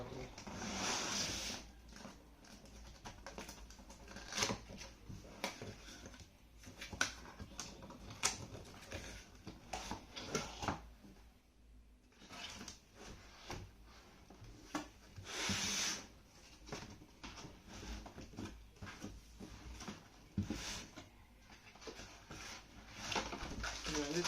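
MSI GF63 gaming laptop box being opened: soft rubbing, scraping and rustling of cardboard packaging, with scattered taps and clicks, close and faint throughout.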